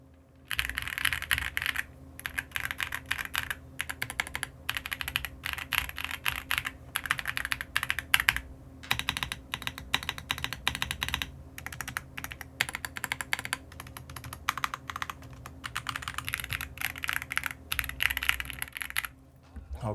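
Close-miked typing on a Redragon K686 Eisa Pro gasket-mounted mechanical keyboard: a continuous, fast patter of crisp key clacks with brief pauses, alone with no voices.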